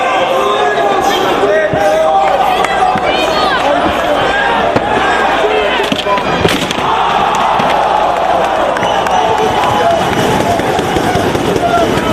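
Wrestling crowd roaring and cheering on its feet at a Ring of Honor show after a wrestler crashes through a table, a loud, dense, continuous wall of crowd noise with a commentator talking over it.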